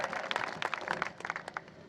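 Audience clapping and applause at a Hindi pahadi kavi sammelan poetry gathering, a short burst of many hands clapping at close range, fairly loud and dense, with no voices over it.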